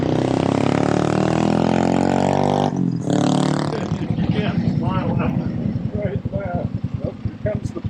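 A 1954 Harley-Davidson FH 750 motorcycle engine rumbles loudly and steadily up close, with a throttle surge early on, while excited voices shout and talk over it.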